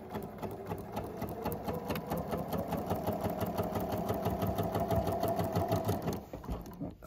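Sewing machine running steadily while stitching quilt block pieces for a 1930s sampler block, a fast even mechanical whir that winds down at the end, no speech.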